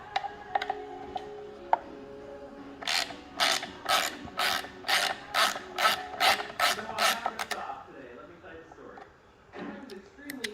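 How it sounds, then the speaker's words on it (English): Rapid ratcheting clicks from a wrench loosening a 5mm Allen bolt on a Polaris side mirror of a 2021 Trail S 1000, about ten evenly spaced bursts in the middle, close and loud, with speech before and after. "You're going to unscrew this bolt."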